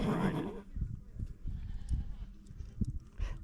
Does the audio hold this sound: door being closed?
no